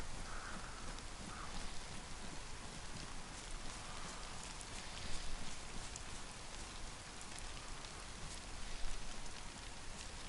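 Steady rain pours down throughout in the survival game DayZ on PS4, a dense, even hiss of drops on surfaces with no voices over it.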